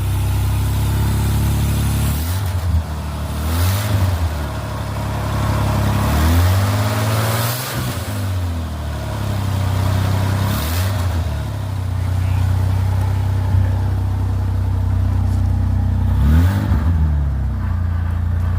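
A scrapyard-rescue Ford F-150 truck engine, freshly fitted with new fuel pumps and tank and running with its exhaust removed, idles with a steady low rumble and rises in several revving bursts; speech is mixed in.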